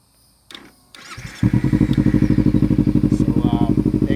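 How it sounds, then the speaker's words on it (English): A Kawasaki Ninja 300 motorcycle with a too-loud exhaust and a faulty starter cranks a few times, then fires and settles into a loud, close, rapid rhythmic idle pulse. "So the exhaust is way too loud"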